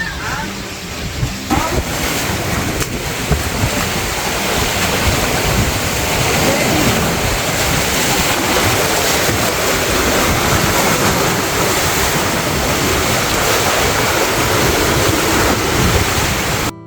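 Big ocean waves surge and crash continuously against a flooding house, a dense, loud roar of surf with wind buffeting the microphone throughout.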